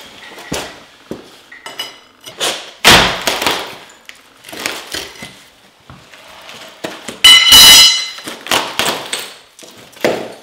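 Chipping away at the top of a failed tiled shower curb produces sharp, irregular clanks and cracks of tile and mortar, with a few louder hard strikes standing out among scraping and clattering debris, all close by.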